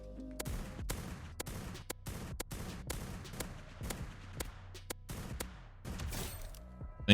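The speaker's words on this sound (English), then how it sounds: "Time to use this rifle and see what it's capable of." Rapid rifle shots aimed at a level 85 female Apex Griffin in ARK: Primal Fear, a dozen or so sharp cracks in quick uneven succession over continuous background noise, no voices.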